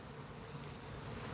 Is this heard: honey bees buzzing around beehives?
yes